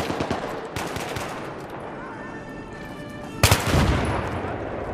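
P90 gunfire in Battlefield 3 co-op: rapid crackling shots at the start, then a quieter stretch, followed by a sudden loud burst near the end.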